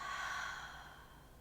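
A slow, soft exhale during a morning yoga flow, one breathy sigh up close that fades out over about a second.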